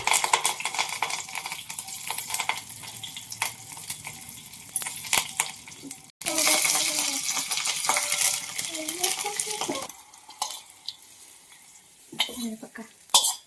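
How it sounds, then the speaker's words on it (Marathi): A hot tempering of oil with green chilli and curry leaves is poured over steamed dhokla in a home kitchen, giving a bright crackling sizzle that flares, then fades, amid clinks of utensils and pan handling. "बघा फोडणी ओतली."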